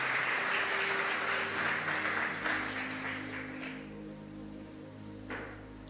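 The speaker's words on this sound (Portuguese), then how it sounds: "Vamos aplaudir o Tiagão, por favor." Church congregation applauding during a service, a dense wash of clapping that fades gradually, with a faint sustained tone underneath.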